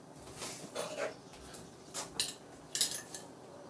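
Someone rummaging through cutlery for a teaspoon, with scattered metallic clinks and jangles of spoons knocking together at close range, a few sharper clanks near the end, and no talking.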